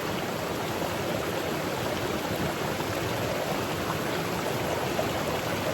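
Continuous broadband rush of river water flowing at a Jamaican bathing spot, close and steady with no breaks, and no voices heard.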